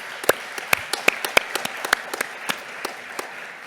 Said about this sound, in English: they probably deserve a clap as well